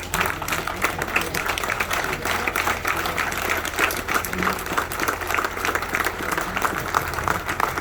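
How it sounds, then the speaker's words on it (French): An audience rises for a standing ovation for a professor, a continuous dense patter of many hands clapping, even and sustained, with a low hum underneath and some faint voices. "On va s'élever pour applaudir pour lui."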